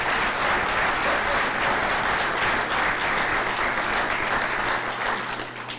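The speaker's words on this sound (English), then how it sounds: "let me ask you to once again give a great round of applause for our 2 previous speakers" Sustained round of applause from an audience at a city's State of the City address, dense and steady clapping throughout, tapering slightly at the end.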